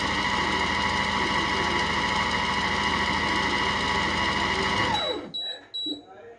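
A Compact Cook Platinum kitchen machine whirs steadily at speed 4 while whipping egg whites, a loud buzzing drone for about five seconds that suddenly stops, leaving faint clinks and rattles.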